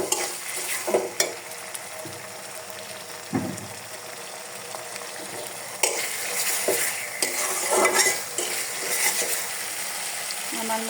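Garlic, ginger and cumin paste being mixed and fried in a pan, steady sizzling broken by irregular scraping and tapping of a spoon stirring against the metal, close and fairly loud.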